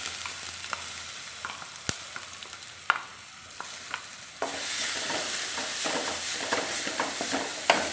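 Ground coconut paste hitting hot oil with curry leaves for beans thoran, a steady close sizzle rising and spreading after a few sharp stirring clinks, busy crackle filling the pan with no talk.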